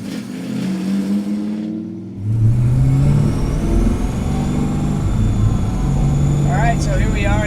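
A car with a power steering gearbox under test drives a slalom course, the engine note rising and falling as it revs and accelerates close by, loud and continuous, with people talking over it.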